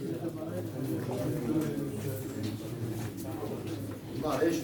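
Pigeons cooing at a Çorum pigeon auction, soft low murmuring calls running steadily under a busy, crowded room with people talking throughout.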